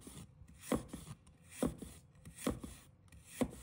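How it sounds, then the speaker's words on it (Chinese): Knife slicing a piece of fresh ginger on a cutting board: four evenly spaced, crisp chopping knocks, close and fairly quiet, with no voices. "取一块生姜，切成片"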